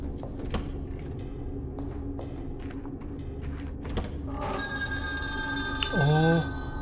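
Telephone ringing inside the video game Afterdream, a tonal ring heard from about the middle of the stretch onward over a steady game ambience with low thumps, growing louder near the end.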